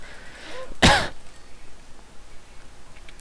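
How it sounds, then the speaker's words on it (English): A single short burst of coughing mixed with laughter, loud and close, lasting under a second, followed by quiet background. "never laugh while coughing."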